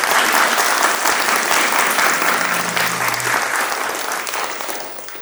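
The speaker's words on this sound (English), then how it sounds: "So a round of applause for our professors." A university debate audience claps for its professors, a dense, loud, sustained round of applause that slowly fades out.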